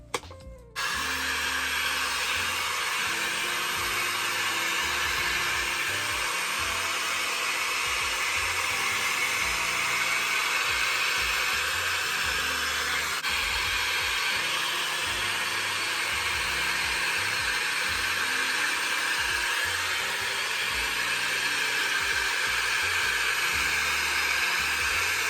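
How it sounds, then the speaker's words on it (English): A Shark FlexStyle hair dryer with a round brush attachment runs continuously at close range, giving a loud, steady airy whoosh with a constant motor whine that holds for about twenty-five seconds after a brief start. "I normally use a round brush attachment to like do the front piece"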